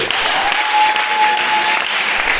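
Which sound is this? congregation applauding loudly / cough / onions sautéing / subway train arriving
congregation applauding loudly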